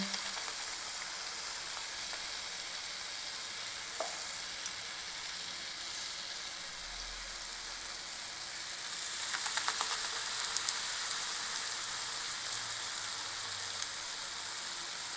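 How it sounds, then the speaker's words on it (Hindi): Spoonfuls of batter for bhalla frying in hot oil on low flame, a soft continuous sizzle and bubbling that swells briefly in the middle, with no voices. "अब इसमें हम 1 टेबल स्पून ये बैटर डाल देंगे।"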